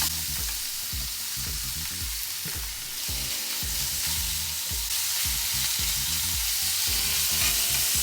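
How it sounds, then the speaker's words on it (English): Bacon sears and sizzles in a hot cast iron skillet, a loud continuous frying hiss with rhythmic low clatters from stirring or scraping throughout. "Our cast iron skillet is on, hot and ready to go, and we're about to sear some bacon"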